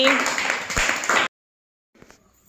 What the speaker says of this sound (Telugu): క్లాప్ జగదీశ్వరికి.